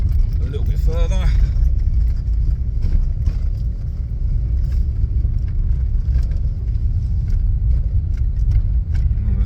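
A vehicle fitted with MAXLOAD air suspension driving along, its steady engine and road rumble filling the cabin with light rattles, while someone talks over it.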